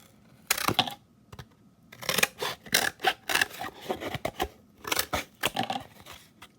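Thick scissors snip through cardboard in close, crisp bursts, a few isolated cuts followed by quicker clusters of crunching snips in a quiet room.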